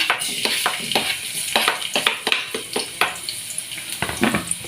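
Garlic being sautéed in hot cooking oil in a pan for a mixed vegetable dish, with a steady sizzle broken by repeated sharp scraping and stirring clicks, fairly close and with no talking.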